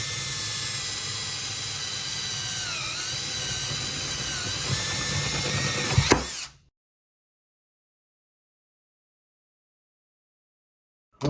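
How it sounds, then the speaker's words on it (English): A small high-pitched drill whines steadily and close for about six seconds while boring holes in the window switch of a 1968 Lincoln Continental, then stops abruptly, leaving silence. "I'm going to drill some holes in this"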